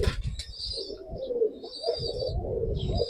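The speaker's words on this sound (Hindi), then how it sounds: "ये पंजाबी कबूतर है आमिर भाई" A Punjabi pigeon crossed with a Saharanpuri hen coos in a home loft, low rolling coos repeating through a few seconds close by, with soft rustling and no talk.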